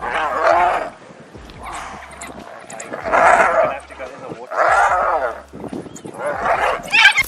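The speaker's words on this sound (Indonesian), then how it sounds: "kawanan anjing liar tiba-tiba saja berdatangan dan menyerang hyena beramai-ramai" A pack of wild dogs attacking a hyena, giving repeated yelps, yips and whimpering barks in several close bursts, with a voice speaking over much of the commotion.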